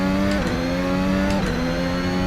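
Interior engine sound of the VRC Formula Alpha 2022 race car in Assetto Corsa at Silverstone, a loud, harmonic-rich high-revving whine that holds steady with two quick upshifts, each dropping the pitch briefly before it climbs again.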